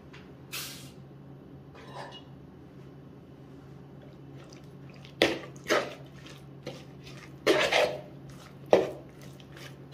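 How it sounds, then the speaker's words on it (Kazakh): Raw liver being mixed by hand with salt, pepper and a spoon of flour, giving soft wet squishes and sticky slaps in irregular bursts, close and fairly quiet with pauses between. "Жақсылап барлығын араластырамыз."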